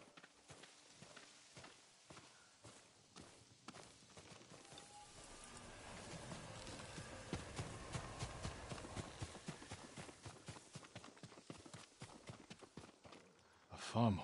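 A farm horse's hooves clip-clop in a samurai-era Tsushima video game, steady plodding steps growing louder through the middle under background ambience, with a sharp thump at the end.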